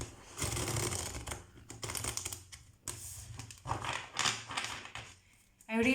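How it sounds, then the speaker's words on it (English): Tarot cards being shuffled, a run of dense papery riffles and rustles in uneven bursts with short pauses, close by, ending in a sharper flurry. "I want to shuffle"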